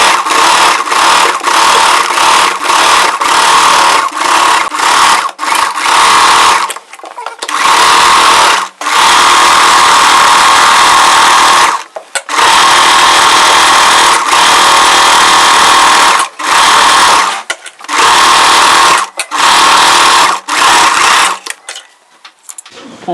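A sewing machine stitches layered chudidar frills in loud, close bursts of rapid running separated by short pauses, with a few brief gaps between runs.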